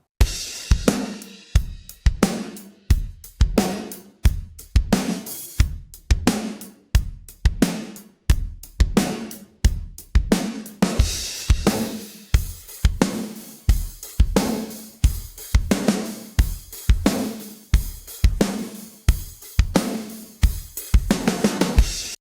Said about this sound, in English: saturators that are able to make the drums sound like this is very unique.